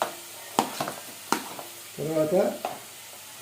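Capsicum and mixed vegetables sizzle in a pan while frying, with a soft, steady crackle under scattered stirring clatters, and someone speaks briefly.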